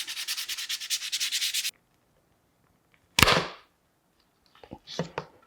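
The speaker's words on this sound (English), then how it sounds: "I'm doing a little bit of sanding now before I take the pieces apart" Steady rhythmic rasping of sandpaper on wooden plywood template pieces, a run of quick even strokes near and fairly loud, then stopping, followed by a sharp knock and a few brief clattering taps.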